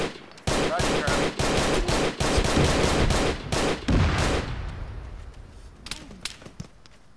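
Heavy cannon and machine-gun fire in a military video game, a dense run of loud, sharp close bursts for several seconds that thins into scattered distant shots and fading echoes.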